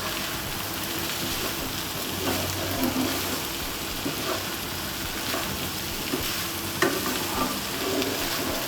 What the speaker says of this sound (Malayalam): ഇതൊന്ന് എല്ലാം കൂടെ ഒന്ന് മിക്സ് ചെയ്യാം.